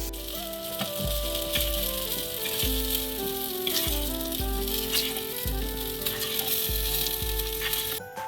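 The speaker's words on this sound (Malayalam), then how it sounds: "ഇനി അടുത്തായിട്ട് നമുക്ക് ചെറിയ ഉള്ളിയും ഇതുപോലെ തന്നെ വഴറ്റിയെടുക്കാം" Shallots sizzle and fry steadily in a pan for a mackerel fish curry gravy, a dense continuous hiss close by under a repeating background melody, with no talking.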